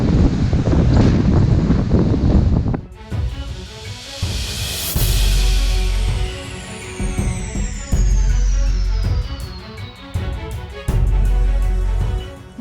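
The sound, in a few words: storm Eric strong winds and stormy rain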